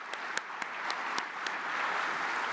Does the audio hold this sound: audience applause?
yes